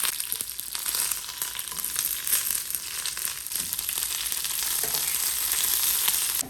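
Mustard seeds and dried chilies sizzle and crackle steadily in hot coconut oil, a dense continuous frying hiss with small pops throughout, close and fairly loud with no talking.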